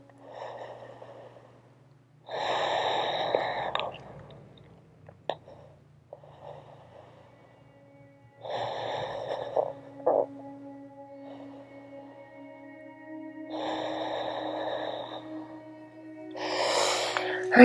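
Slow, deliberate breaths held through a yoga pose, several long audible inhales and exhales spaced a few seconds apart, close and fairly soft, with quiet gaps between them.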